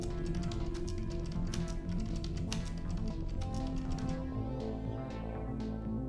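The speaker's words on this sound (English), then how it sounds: "So I'll try to type it quickly." Rapid key tapping on a computer keyboard during an online typing test, a dense run of quick clicks over steady background music.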